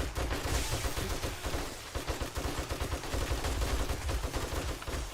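Dense, rapid gunfire aimed at a zombie horde during a wasteland base defense in 7 Days to Die, loud and continuous with overlapping bursts throughout.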